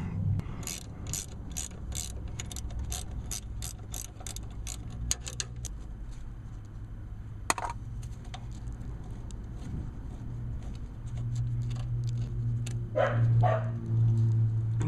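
Hand ratchet loosening the power nut on a car starter motor, a quiet run of quick, evenly spaced clicks up close, pausing, then a few more clicks and a low metallic clunk near the end, no speech.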